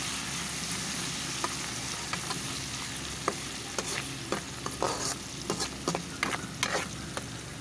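Coriander leaves frying in hot oil for a brinjal chicken curry, with a steady low sizzle throughout and a series of sharp ladle scrapes and clinks against the pan in the second half, close and fairly quiet.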